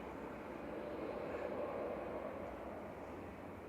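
A Ryanair Boeing 737-800, an 18-year-old airframe arriving at Manchester Airport from Londonderry, gives a steady, broad engine roar that holds at an even, moderately distant level with no talk over it.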